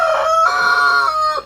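A rooster named Wendigo crows loudly and close by in one sustained call that rises into a long, held note and then trails off at the end, with no talk over it.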